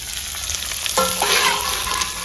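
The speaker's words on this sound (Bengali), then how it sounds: "এগুলোকে একই সাথে ভেজে নেব" Whole garlic cloves, ginger pieces and green chilies frying together in hot oil, sizzling steadily and close throughout, with a sharper burst of crackle about halfway as the ingredients hit the pan.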